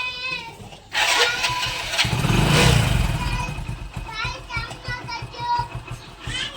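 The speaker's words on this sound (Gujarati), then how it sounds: "ગાઈસ આપણી બાઈક ચાલુ" A motorbike engine fires up after a brief quiet start, then runs with a steady rumble while children and adults talk over it nearby.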